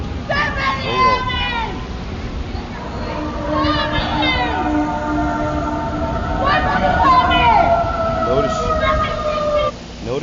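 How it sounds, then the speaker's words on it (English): Police or ambulance sirens wailing in the street, rising and falling tones overlapping continuously under steady background noise, moderately distant, with people talking over them. "Notice you hear the sirens in the back of the police or the ambulance"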